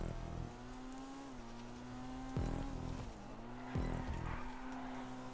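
Engine of a race car driven in GTA Online drones steadily with a rising and falling pitch, broken by two loud surges or bumps, with no talk over it.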